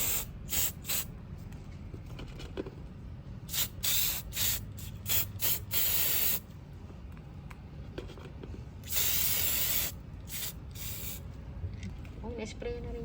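Artificial snow sprays from an aerosol can onto Christmas decorations in repeated hissing bursts, some short and one long, with people chatting in between.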